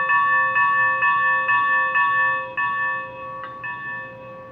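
A bright, electronic-sounding locomotive bell from a Broadway Limited Challenger 4-6-6-4 model steam locomotive with DCC sound rings repeatedly at a steady pace, about twice per second, clear and close, and it slows and softens toward the end.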